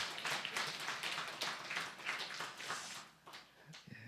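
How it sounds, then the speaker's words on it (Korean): A church congregation claps during a deacon ordination service: a faint, steady patter of many hands that fills the whole stretch, thinning slightly near the end. "하나님 앞에 영광의 박수를 올리겠습니다"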